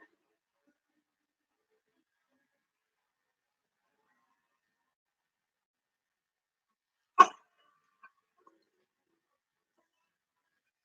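A dog gives one short, sharp bark that stands alone in otherwise near silence, followed by a couple of tiny faint clicks.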